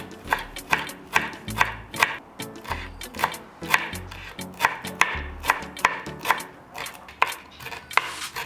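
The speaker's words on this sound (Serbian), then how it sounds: "Iscrcat ću pola veze mirođe." A knife chops half a bunch of fresh dill on a cutting board with quick, evenly spaced thuds, loud and close, with no talking.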